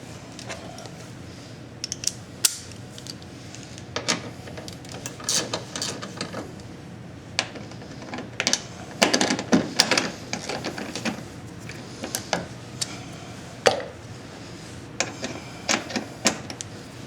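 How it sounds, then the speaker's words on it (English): Fender bolts and a push pin come out of a third-generation Nissan Murano's rear bumper area, heard as scattered close clicks, ratchet ticks and plastic snaps at irregular intervals over quiet background. "remove the 2 fender bolts right here and a push pin right here."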